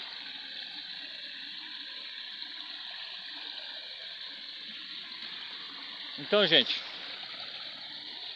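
Steady rushing water from a waterfall flows throughout, a constant broad wash, with a person briefly speaking near the end over the noise.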